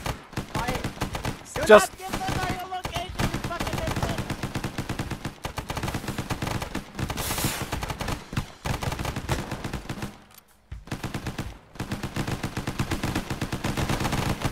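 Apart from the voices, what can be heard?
gunfire in a military video game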